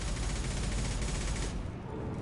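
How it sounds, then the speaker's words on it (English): Garrus fires on the player in Mass Effect 2, a dense, continuous burst of rapid gunfire that stays loud and close, then cuts off abruptly near the end, leaving a quieter tail. "Garrus will actually shoot you."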